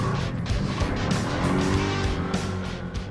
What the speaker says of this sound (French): Je troque aujourd'hui un véhicule tout-terrain de 2003.